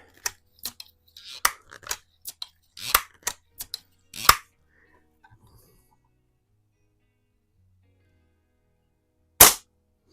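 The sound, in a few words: Daisy No.107 Buck Jones air rifle shot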